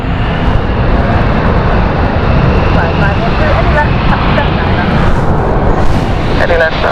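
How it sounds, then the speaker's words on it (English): A jet airliner on the Rotterdam flight roars at London City Airport, a loud continuous broadband rumble holding for the full stretch. "There is the Rotterdam flight."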